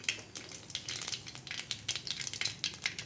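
Mustard seeds and cumin frying in hot oil in a pan, with scattered pops and crackles over a steady soft sizzle, close and fairly quiet, no voices.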